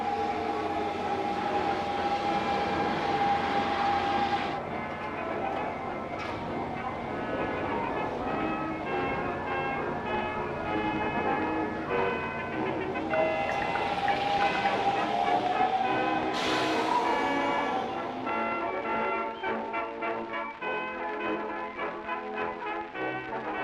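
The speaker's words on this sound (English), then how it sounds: "I'll get a shot of the train arriving" A train pulls into a station on Japan's short Mukogawa Line, with a loud sustained rumble, squealing brakes and whining motor tones, rattling cars and a brief chime, all close and continuous.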